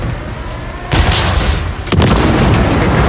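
An enemy helicopter blows up in Call of Duty Modern Warfare 3, with two loud, sudden explosive booms about a second apart, each followed by a roaring, rumbling tail.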